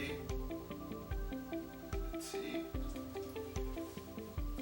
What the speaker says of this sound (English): we can pour, let's see, some water on it